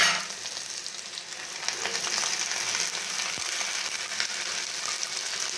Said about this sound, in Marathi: आता यात मी साबुदाणे घालते